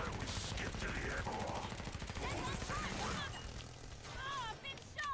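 Rapid automatic fire from an MP5RAS submachine gun in Killing Floor 2, sustained bursts of close, loud shots for about three seconds, followed by squealing creature cries and a voice talking over the game.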